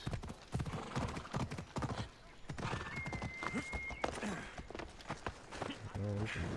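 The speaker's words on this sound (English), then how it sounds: "The horse there." Horse hooves clip-clop in Assassin's Creed Odyssey gameplay, a steady trot of repeated hoof strikes up close, with a brief whinny-like tone and a voice talking over the game sounds.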